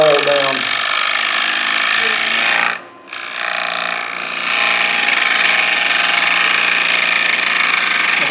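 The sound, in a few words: bowl gouge thinning a fresh-cut wooden bowl on a lathe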